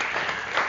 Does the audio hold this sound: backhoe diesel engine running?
no